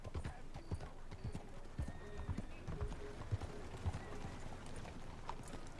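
Horse hooves clip-clop steadily at a riding pace in Red Dead Redemption 2, with a brief whinny and game ambience around them and no talk over the hoofbeats.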